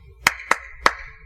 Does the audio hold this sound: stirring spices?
no